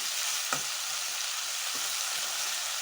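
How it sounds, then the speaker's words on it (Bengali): Sliced long, thin eggplant frying in oil in a pan, with a continuous close, bright sizzle and a couple of soft stirring scrapes. "বেগুনটা দিয়ে নেড়ে নিচ্ছি।"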